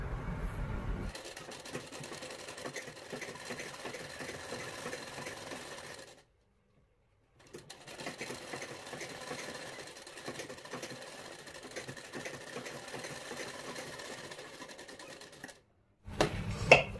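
A sewing machine runs steadily over a folded strip of blouse fabric, with two long stitching runs split by a short pause, at moderate loudness and with no talk.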